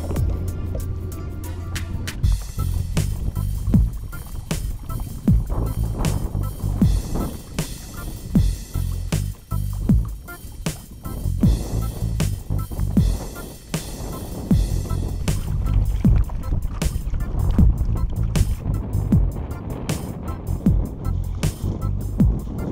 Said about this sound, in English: That wind is ripping.